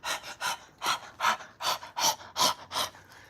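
Rhythmic panting breath from a person doing a breathing exercise, imitating a panting dog: about ten quick, loud, close breaths in an even pulse with no talking.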